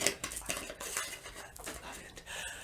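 A teaspoon scoops dried meadowsweet herb from a container with soft rustling and small metallic clinks in quick, uneven bursts, quiet and close.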